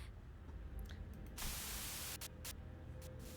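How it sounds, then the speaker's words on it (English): A burst of white-noise static from a radio transmission in Limbus Company hisses over a steady low hum, with a louder wash in the middle and a few short crackles after. "A sudden buzz of white noise breaks through the truck's silence."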